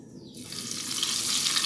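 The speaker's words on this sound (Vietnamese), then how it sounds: "Rồi bắt đầu mình sẽ chiên ha." Wheat gluten noodles drop into a pan of hot oil and erupt into a loud, bright sizzle that starts suddenly and holds steady for over a second, with no talk.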